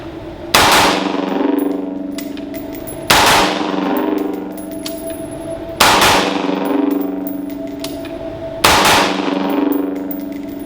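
Four loud pistol shots at an outdoor shooting range, spaced roughly evenly apart during defensive two-shot drills, each crack ringing out and decaying with a long metallic echo.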